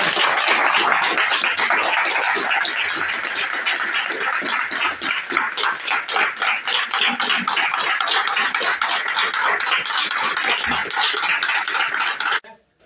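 Sustained applause from a crowd at a gathering in Abidjan, a dense steady clatter of many hands that carries on for several seconds and stops abruptly at the end.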